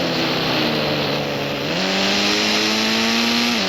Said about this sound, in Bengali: তো আমি পোরশে কার চুরি করছি এবং আমি ফ্র্যাঙ্কলিনের কাছে দিয়েও আসছি।